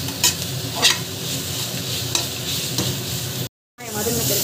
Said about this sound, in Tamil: ஜிஞ்சர் கார்லிக் பேஸ்ட் வாசம் போகிற வரைக்கும் வதங்கணும்